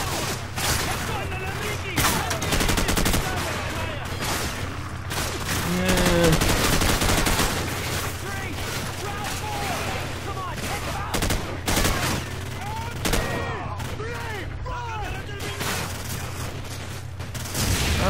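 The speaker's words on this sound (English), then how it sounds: "Every time I pop my head up, there's gunfire." Constant gunfire in Call of Duty: Modern Warfare, with rapid automatic bursts and scattered single shots crackling through the whole stretch over a low hum, while a voice talks intermittently on top.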